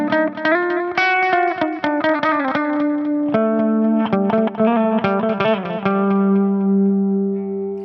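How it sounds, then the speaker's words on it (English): A Squier J Mascis Jazzmaster electric guitar plays through an amp channel pushed to clipping distortion, picked notes and chords ringing out in a quick riff with sustained tones, loud and close. "I'm getting a little bit of that clipped distortion"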